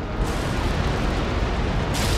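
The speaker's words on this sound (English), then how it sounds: "I'm going to unleash my cannons on Jim's ship there" Naval cannons firing a broadside from a sailing warship in the game Empire: Total War, a dense, continuous roar of overlapping booms that holds loud and steady throughout, with no voices.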